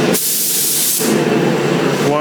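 Spray gun laying a primer coat on car bodywork, a loud close hissing blast with a brief pause before a second sustained burst of spray.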